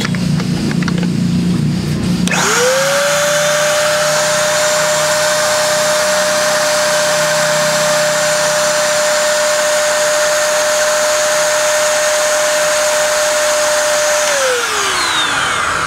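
A Coofix CF-SG001 electric paint spray gun runs with a steady, loud electric whine at 76 decibels, a constant high pitch that starts abruptly after a brief clatter, holds evenly, then winds down at the end.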